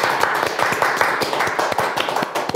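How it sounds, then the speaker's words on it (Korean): An audience claps along in a steady, lively burst of applause, dense broadband clapping with distinct sharper hand strikes standing out, continuous and close throughout with no talk. "다 같이 박수 한번 주세요"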